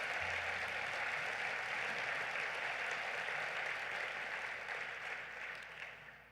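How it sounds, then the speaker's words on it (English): Steady, dense crowd applause fills a large hall at a Netroots Nation 2018 political gathering, holding strong and even before gradually tapering off at the end. "Please give them a round of applause."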